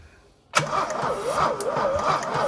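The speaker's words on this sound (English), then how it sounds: "It's like the starter motor's shitting itself." A Mk1 Vauxhall Astra SR 1.6 with no compression on two cylinders cranks on its starter motor, a steady close, loud whirring churn with a rhythmic rise and fall, starting abruptly after a moment of quiet.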